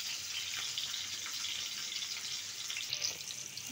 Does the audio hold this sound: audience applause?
no